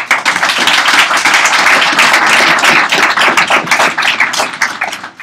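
Audience applause at a developers meetup on Docker fills the room. Dense, steady clapping sounds close and loud, then thins toward the end, with almost no talk.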